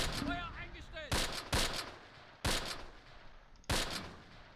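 Gunfire in the World War II game Close Combat, with four sharp separate shots at irregular intervals following a short chirping sound, moderately close and fairly faint overall.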